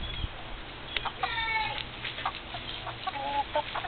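Several chickens cluck and squawk up close in a short, irregular burst of rising, warbling calls, with a low background rumble.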